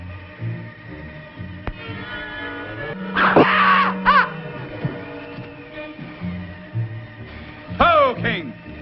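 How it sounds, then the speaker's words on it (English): A scream rings out from a valley in a radio drama, a high wailing cry rising over a low dramatic music bed, followed later by a second shorter wail. "Scream came from the valley."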